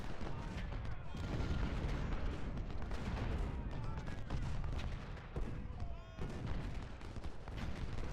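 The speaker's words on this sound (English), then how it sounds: "Goddamn artillery." Dense, continuous battlefield din from Ultimate General: Civil War, with booming artillery and rattling gunfire layered into a loud, unbroken roar across the whole stretch, with a voice mixed in.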